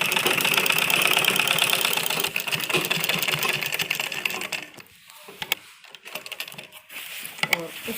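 A sewing machine runs close up stitching a men's kurta, a fast steady needle clatter for several seconds that then slows into scattered clicks and handling noises.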